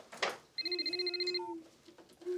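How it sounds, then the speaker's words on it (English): A mobile phone rings nearby with a warbling electronic trill of rapid pulsing tones lasting about a second, followed by a short lower beep, against a quiet room. "Mr Welch's phone rings"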